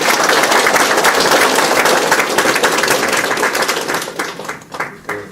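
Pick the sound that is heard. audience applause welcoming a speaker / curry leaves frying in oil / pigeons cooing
audience applause welcoming a speaker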